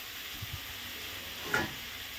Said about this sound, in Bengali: তাই জন্য এখন ভেজে নিচ্ছি রুটি